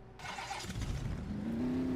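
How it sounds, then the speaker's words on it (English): A Jeep engine in the off-road game Spintires cranks and catches, then settles into a low steady idle with a rising hum, all fairly quiet and close. "Let's get the headlights on here, start up the engine."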